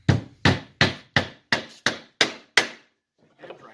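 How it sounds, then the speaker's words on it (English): A hammer strikes wood eight times in a steady, fairly quick rhythm while a wooden birdhouse roof is fastened together. Each blow is close and loud with a short decay, followed by faint handling noise. "Use your hammer and"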